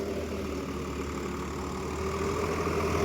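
A Swaraj 744 XT 4WD tractor driving a 72-blade rotavator in a field, a steady, loud low engine drone with a rhythmic mechanical churn, running smoothly and continuously.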